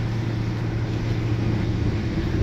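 A supercharged car fitted with a modified Corsa exhaust runs at a steady low rumble, a dense, unbroken drone close by with no speech over it.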